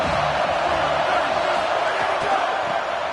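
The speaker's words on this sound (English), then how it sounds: "these fans, they get something to cheer about with that first offensive possession" A football stadium crowd roars and cheers continuously as fans react to the home team's first offensive possession, a dense, steady wall of noise with no clear breaks.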